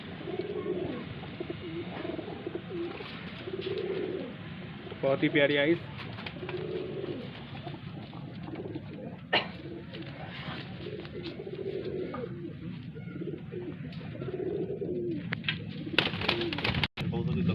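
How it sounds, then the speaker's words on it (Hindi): Highflyer pigeons, including a yellow-eyed Kalsari hen, cooing repeatedly in soft, rolling phrases at moderate distance, with someone talking over them throughout. "देखिए दोस्तों एक और पीली आंखों की कलसरी कबूतरी आपकी आंखों के सामने है।"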